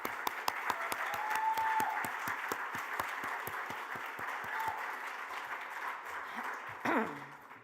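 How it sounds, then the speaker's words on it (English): Audience at a 2022 LPC convention applauding, a sustained moderate round of clapping with a few sharp individual claps standing out, fading slightly toward the end. "let's have another round of applause for Whitney"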